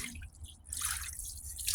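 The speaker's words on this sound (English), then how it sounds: "I've got nothing but just the inlet to the water heater open and the drain valve to the hose." Water draining from a gas water heater's drain valve out through a hose, a steady hissing, dripping wash of flow that swells louder near the end, close by with no talk.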